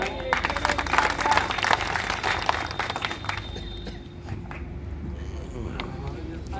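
Crowd applause at a community workers' conference and felicitation event, dense clapping strongest at the start and thinning out toward the end over steady background noise and a low hum.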